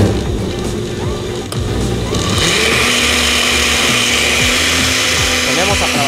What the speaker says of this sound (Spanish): Licuadora,